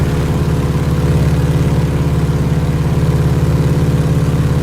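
A vintage aircraft engine drones steadily at low RPM in a flight simulator, a loud continuous low hum with no talking.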